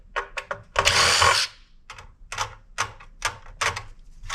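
Number 2 Phillips screwdriver backing screws out of a main circuit board, a run of short close scraping clicks and ratchety turns with a longer grinding twist near the start.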